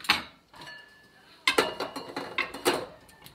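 A stand mixer with a paddle attachment shredding cooked chicken breasts in a mixing bowl, steady mechanical whir with repeated clattering knocks, close and fairly loud.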